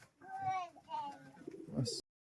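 Short-beaked Giribaz pigeons of an old Murshidabad line coo softly in their loft, low murmuring calls rising near the end beneath a man's speech.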